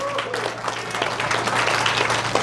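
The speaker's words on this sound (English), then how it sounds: "Let's give her a good round of applause." Sustained audience applause at a presidential forum in Teec Nos Pos, a dense wash of clapping hands that stays loud and steady throughout, with faint voices mixed into the crowd noise.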